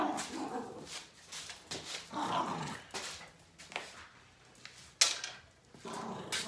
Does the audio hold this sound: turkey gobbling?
no